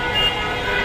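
Evening road traffic outside Karwan Bazar metro station in Dhaka, with a steady near wash of engines and a short car horn toot rising briefly above the constant rumble.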